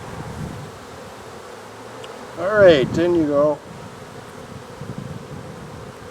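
Honeybees swarm around an open hive during a nucleus transfer to a hive body with a Kona queen, a faint steady hum under wind, rising to a close buzzing sweep for about a second while someone speaks briefly.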